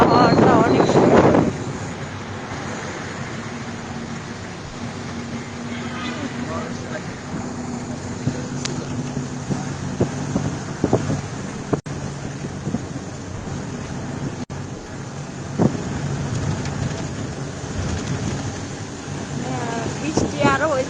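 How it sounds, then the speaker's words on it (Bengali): Cold wind rushes past a moving bus on a damp, rainy day, a steady close roar with low engine rumble underneath and a voice speaking briefly at the start. "এত ঠান্ডা বাতাস, অনেক দিন পরে আবহাওয়াটা অনেক সুন্দর"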